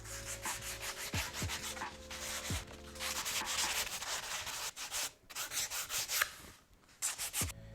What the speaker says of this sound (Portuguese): Então lixamos com a lixa 80 até ter uma superfície homogênea e sem arranhões da grosa.